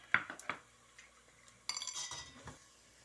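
A spoon stirring salt, turmeric and basic spices into yogurt in a bowl for a vegetable pulao, heard as a few sharp metallic clinks and scrapes, close and fairly quiet, with a short burst of mixing near the middle.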